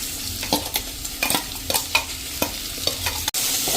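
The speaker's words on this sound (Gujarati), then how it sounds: "આને આપણે કન્ટિન્યુ ચલાવતા રહેવું પડશે, નહીંતર શું થશે, તળિયે થોડું આપણે મસાલો બેસતો જશે" Okra fries with ginger-chili paste in a pan while a spoon stirs it, steady sizzling under rhythmic scraping strokes roughly every half second, close and loud.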